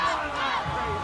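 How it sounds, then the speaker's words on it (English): Crowd at a 1996 Dondero vs Kimball high school football game cheering with a Let's Go Oaks chant led by the Oaks cheerleaders, a dense, continuous roar of voices filling the stands. "We got the Oaks cheerleaders leading Dondero in a Let's Go Oaks cheer, trying to get the crowd pumped up, and it's getting noisy on this side"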